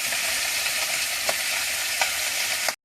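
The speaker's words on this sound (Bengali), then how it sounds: "মাছে লবণ, হলুদ, একটু লঙ্কার গুঁড়ো মাখিয়ে ভেজে নিচ্ছি। আগে মাথাগুলো ভেজে নিচ্ছি।" Tilapia fish heads coated in salt, turmeric and chilli powder fry in hot oil, giving a steady loud sizzle with a few sharp crackles before it cuts off abruptly.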